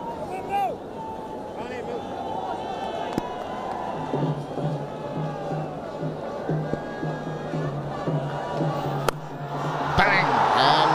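Crowd at a cricket stadium cheering after a boundary in a Bangladesh vs New Zealand ODI, a broad roar of voices that swells near the end, with a commentator talking over it throughout.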